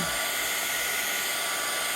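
A hair dryer blasts a steady, loud stream of air close by, drying alcohol ink on a card, with a continuous broadband roar that never stops.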